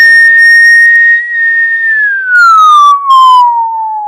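Piercing high whistling tone imitating tinnitus ringing, a loud steady pure tone that glides slowly downward in pitch, with brief higher overtones flickering in twice, no talk.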